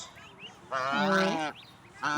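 A few honking calls from goose goslings nearby, one long nasal honk in the middle with shorter calls around it.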